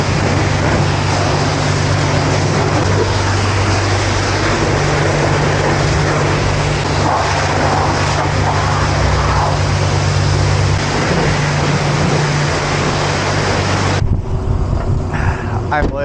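A pressure rinse at a coin-op car wash sprays a Genesis Coupe, giving a loud, steady hiss up close that cuts off abruptly near the end.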